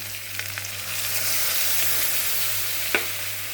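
Frying in a pan while making mouri potol, a loud continuous sizzle with occasional scrapes of a spoon stirring and one sharp clink near the end, no voices.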